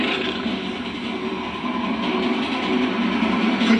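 Train rumbling along in the video game Gears of War 2, a loud continuous rolling roar with faint rhythmic rail clatter, steady and close throughout with no talk.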